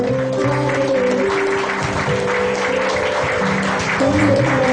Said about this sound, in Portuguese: Adore ao Senhor com suas palmas